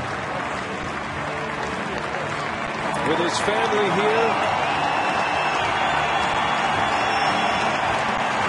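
A crowd of over 33,000 at a baseball stadium applauds in a dense, continuous wash of clapping and cheering that grows slightly louder midway, with a commentator talking over it.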